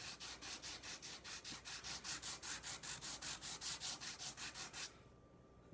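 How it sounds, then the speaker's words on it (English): Hand sanding of a plaster of Paris cast on sandpaper: steady, rhythmic back-and-forth rasping strokes, close and fairly loud, about two strokes per second, stopping near the end. "So when I'm doing this, I'm sanding here and not here."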